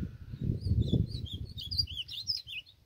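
An ultramarine grosbeak sings out in the open, high bright chirping phrases that come in the second half over gusty wind rumble and low background noise.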